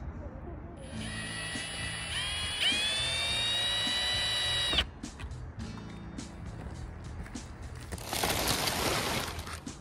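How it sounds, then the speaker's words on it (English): A power drill whines at high pitch for a few seconds while removing screws from wood, stops, then short mechanical rattles and a later burst of whirring follow. "So got a drill with me."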